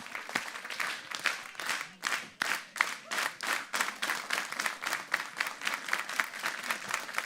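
A union clap from the audience at a gubernatorial candidate forum: rhythmic crowd claps in unison, starting unevenly and settling into a steady, accelerating beat of sharp collective hand strikes that run throughout.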